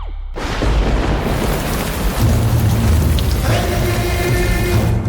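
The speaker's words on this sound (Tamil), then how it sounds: "அப்பா மழை ரொம்ப ஹெவியா இருக்குப்பா." Heavy rain pours down steadily on a road during a thunderstorm, with low rumbling thunder rolling underneath the dense, loud hiss.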